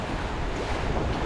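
Ocean waves and cross swell wash around a sailing boat crossing the Atlantic, a steady broadband rush of water mixed with wind noise on the microphone, continuous and fairly loud with no talking.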